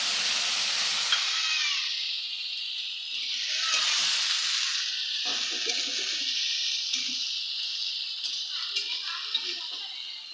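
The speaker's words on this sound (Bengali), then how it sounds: "মাছগুলো সবার প্রথমে এখন ভেজে নেব।" Fish frying in hot oil in a wok, a steady loud sizzling hiss running throughout with small crackles and faint kitchen clatter beneath.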